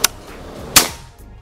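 Two crisp, snappy PCP air rifle shots from a Predator Ghost Warrior filled to 2700 PSI, fired close by, spaced under a second apart, with a faint softer click trailing after.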